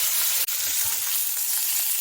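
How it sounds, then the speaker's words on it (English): Beef hits a hot pan with a sharp click and sizzles steadily in oil, a bright, continuous close frying hiss with nothing else over it. "add in my beef. I like that sizzle."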